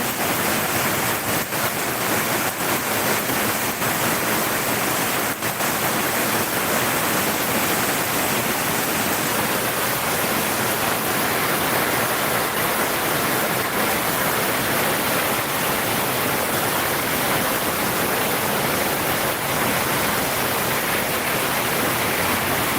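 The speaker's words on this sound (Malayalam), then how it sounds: "ഇവിടെ നല്ല മഴയുണ്ട്" Heavy rain pours down in a dense, unbroken roar in Fort Kochi, loud and steady throughout, with occasional faint taps and no voices.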